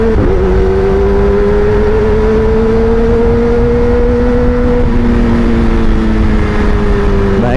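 A motorcycle fitted with a Pro Speed Black Shark silencer exhaust is ridden, giving a loud, steady engine drone throughout as the revs rise and fall slightly.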